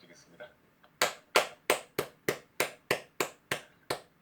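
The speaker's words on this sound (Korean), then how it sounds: "다시 한번 서로를 위해서 이제 박수 한번 부탁드리겠습니다" Brief applause at an online interfaith Bible forum: about ten sharp, evenly spaced claps ring out close and clear after a few faint sounds, like a small group or single pair of hands in a quiet room.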